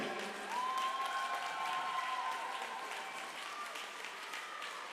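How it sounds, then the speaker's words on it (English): A crowd at a county swimming championship applauds and cheers a butterfly swimmer on her last half length, a steady, moderately distant wash of clapping with a sustained whistle or shout rising over it. "Maybe we can have a bit of noise in the crowd to support her in."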